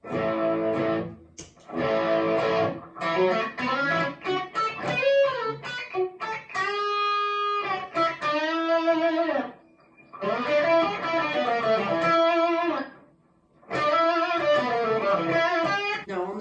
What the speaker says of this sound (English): I kind of have to set this up as my light gain pedal just to push the amp a little bit.